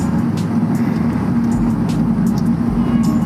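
Mitsubishi Legnum VR-4 twin-turbo wagon with an aftermarket exhaust cruising in a higher gear, heard from inside the cabin as a steady, boomy low drone that holds even and continuous throughout.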